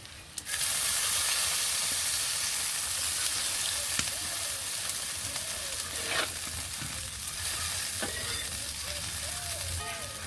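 Taro and spices frying in a pan give off a steady, close sizzle and hiss that runs the whole way through, with a few small clinks of a utensil.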